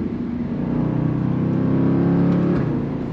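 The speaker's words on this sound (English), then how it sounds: "But with this new exhaust setup, I ain't gonna lie. It's still loud when you get on it" A Jeep SRT engine revs through a new valve muffler exhaust, making a loud, dense, continuous rumble heard from close range that swells slightly mid-rev.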